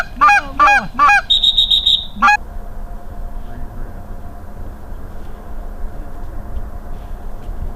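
Geese honk loudly in several quick bursts during a North Dakota hunt, stacked calls over about two seconds, then a low steady outdoor rumble with a faint distant hum carries on alone.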